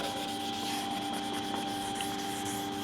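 Steady, quiet rubbing as a Scotch-Brite pad scuffs white satin paint, a continuous close abrasive scrubbing with a faint electrical hum beneath.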